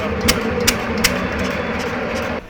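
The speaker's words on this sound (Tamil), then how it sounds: "அந்த இன்ஜினை ஓட்ட சொல்ல பார்த்தீங்கன்னா ஒரு நல்ல இசை மாரி இருக்கும்." A Field Marshal diesel engine runs steadily nearby, a dense low mechanical drone with a few sharp knocks, cutting off abruptly at the end.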